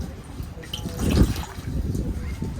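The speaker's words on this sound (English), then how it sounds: "Just soak it in water." A paper towel is soaked under water in a kitchen, giving a brief trickling, splashing run with dripping that swells in the middle and then settles.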